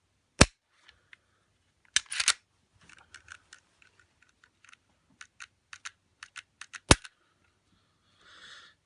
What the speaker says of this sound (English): Lock the slide back.